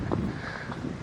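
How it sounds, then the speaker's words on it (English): Wind gusting outdoors as a weather front moves in, a steady, fairly quiet rushing roar with buffeting noise against the microphone. "The wind is picking up."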